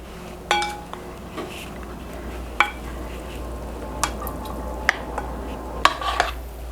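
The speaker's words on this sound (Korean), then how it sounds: "남은 기름을 충분하게 두르고 낮은 불에서 볶아줄 거예요" Glass noodles for japchae are stir-fried in oil over low heat in a pan, a soft steady sizzle broken by repeated clinks and scrapes of a utensil against the pan, close and clear.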